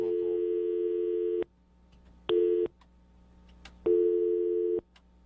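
Telephone busy signal on an incoming call: three loud steady tone bursts, a long one followed by a short one and then another long one, separated by quiet gaps.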